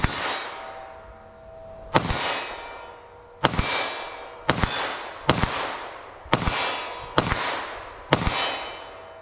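Compact 9mm handgun firing +P rounds at a 25-yard target, eight sharp loud reports spaced irregularly, each ringing and echoing before the next, with no talking.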